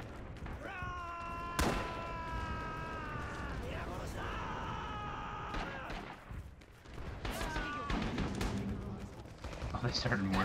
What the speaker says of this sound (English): Oh, they started mortaring.